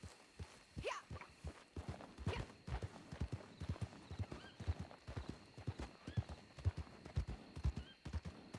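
Horse hooves clip-clopping at a steady walking pace in the video game Red Dead Online, close and fairly quiet, with an early neigh and faint background talk.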